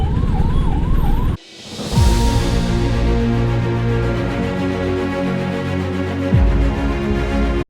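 A loud ambulance siren warbles in a traffic jam just past a new bridge, then cuts off, and steady engine drones and horn tones from the jammed road fill the rest.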